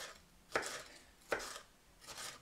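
Red bell pepper diced into small cubes with an Opinel knife on a cutting board: three sharp, separate chops spaced about a second apart, close but soft, with quiet room tone between them and no talking.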